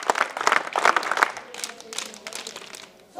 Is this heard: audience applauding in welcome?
yes